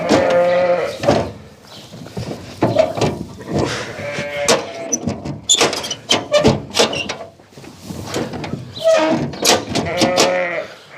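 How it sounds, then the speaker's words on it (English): Sheep and lambs bleat loudly and repeatedly at close range inside a farm shed, with overlapping calls from several animals and occasional knocks and rustling in between. "take the lambs out there again now,"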